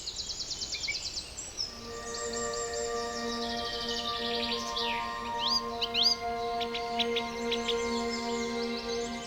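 Springtime birds sing and chirp, several overlapping calls with sustained whistled notes and quick tweets, moderately close and clear against a faint background.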